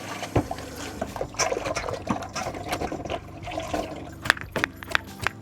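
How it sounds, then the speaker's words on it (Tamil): Coriander leaves being washed in lukewarm water make continuous splashing, trickling and sloshing, with sharper drips and spatters near the end, close and fairly loud with no talking. "இளஞ்சூட்டு சுடு தண்ணியில் இந்த கொத்தமல்லி இலையை கழுவுறேன்."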